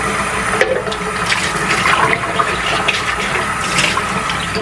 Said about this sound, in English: you want to make sure that you turn the valve. That way, whatever brine shrimp is left in here comes out.